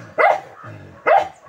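A dog at a large house barks twice, close and sharp, the two loud barks about a second apart with quiet between them.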